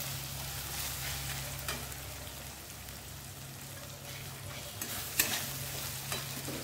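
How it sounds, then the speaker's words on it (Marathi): Two small chopped tomatoes frying in a pan with chicken liver masala, a soft continuous sizzle with occasional stirring clinks, quiet and close, no speech. "आता 2 कापलेले टोमॅटो टाकते मी"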